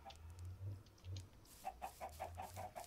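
Chickens in a small coop cluck in a video game, a low clucking at first and then a quicker run of short repeated clucks toward the end, heard alone at moderate loudness.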